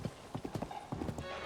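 A horse's hooves clip-clop in a quick, even rhythm in The Legend of Zelda: Tears of the Kingdom, close and fairly quiet over a short stretch.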